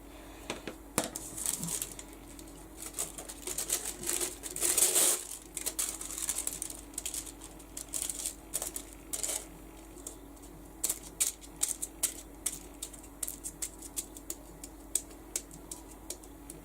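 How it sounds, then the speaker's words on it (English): Adhesive tape is pulled and pressed onto a steampunk altered-art jar, producing scattered close crinkling, tapping and sticky tearing sounds in irregular bursts against a quiet background. "Let's tape this up."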